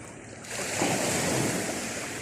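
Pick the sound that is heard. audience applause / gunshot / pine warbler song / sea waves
sea waves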